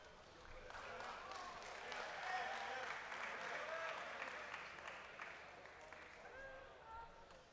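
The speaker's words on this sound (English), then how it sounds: "Give a round of applause." Audience applause at a live assembly event, a faint, distant wash of clapping that holds steady for several seconds, with voices murmuring underneath.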